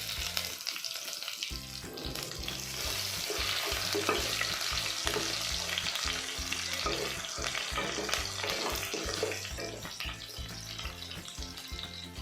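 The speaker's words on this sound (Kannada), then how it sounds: "ಇದರಲ್ಲೇ ಜಜ್ಜಿರೋ ಗಾರ್ಲಿಕ್ನ ಹಾಕ್ಕೊತಾ ಇದ್ದೀನಿ" Crushed garlic sizzles loudly in hot oil in a pan for radish sambar, a continuous close frying hiss with occasional stirring scrapes and no talk.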